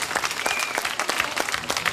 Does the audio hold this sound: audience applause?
yes